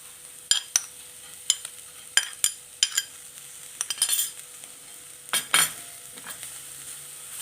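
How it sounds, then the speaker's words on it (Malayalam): Cooked horse gram gets tipped into a hot frying pan and stirred, giving soft sizzling under a string of sharp scraping and clinking strokes from a spoon against the pan, close and irregular. "ഇതിലേക്ക് ഇനി വേവിച്ച് വച്ചിരിക്കുന്ന മുതിര ഇട്ട് കൊടുക്കാം"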